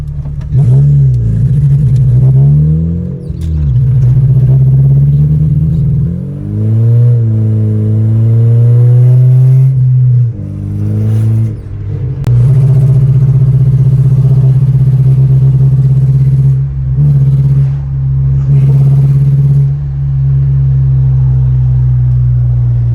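A station wagon with worn-out spark plugs and wires drives along. Its engine runs loud and close throughout, and the revs rise and fall repeatedly with gear changes. No one speaks.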